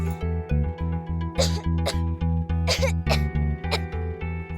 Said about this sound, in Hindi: इसे तो बहुत ज्यादा खांसी हो रही है